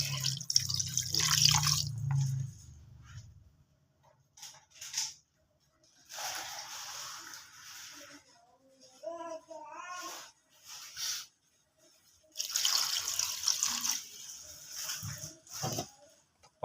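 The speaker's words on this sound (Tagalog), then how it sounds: "Tapos lagyan na natin ng tubig." Water splashes and pours into a pot in several bursts, with short pauses and some bubbling between them.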